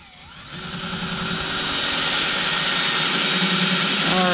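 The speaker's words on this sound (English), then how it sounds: "we just drill all the way through and pull back" A power drill whirring loudly and continuously, its pitch climbing and then holding steady as it bores through.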